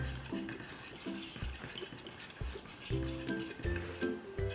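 A popsicle stick stirs wood stain in a small can, making repeated scraping knocks against the metal sides in an uneven rhythm, close and fairly quiet.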